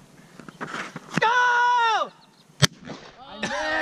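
One sharp, brief gunshot cracks out at two targets, close and loud, between excited shouting voices that come before and after it.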